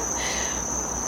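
Steady, continuous trilling of crickets at night, a high shrill pulsing chorus that runs unbroken and fairly close throughout, with no voices.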